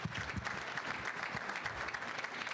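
Applause from an audience at an induction ceremony, a steady dense wash of clapping hands with faint crowd murmur underneath, sustained for the whole stretch.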